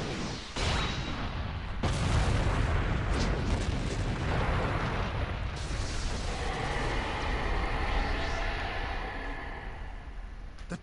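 A deep, rumbling explosion bursts out and keeps roaring in a long, noisy wash of blast and debris, loud throughout, in Naruto Shippuden: Ultimate Ninja Storm 4.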